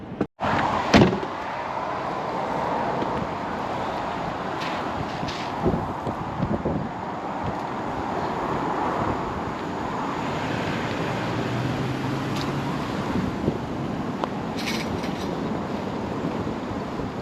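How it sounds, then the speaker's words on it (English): Strong, steady wind roars on the Outer Banks, a continuous loud rushing buffet with occasional bumps and knocks, no talking. "The wind has been picking up since I got to the Outer Banks"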